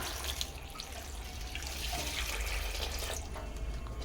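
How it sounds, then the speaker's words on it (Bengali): Water poured steadily over sliced raw bananas seasoned with salt and a little turmeric, a continuous close gushing and splashing rush lasting the whole few seconds with no talk. "এবার পানি দিয়ে দিব"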